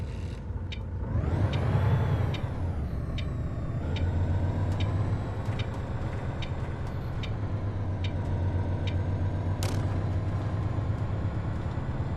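Truck air brakes in a driving simulator video game hiss and whoosh repeatedly over a steady low engine drone, with sharp release bursts standing out near the end.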